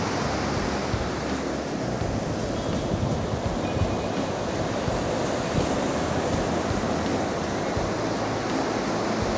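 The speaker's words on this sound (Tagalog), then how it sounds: "Grabe ang alon." Big ocean waves crash and roll onto a sandy shore in the Bicol region, a steady loud roar of surf with wind buffeting the microphone and no voices.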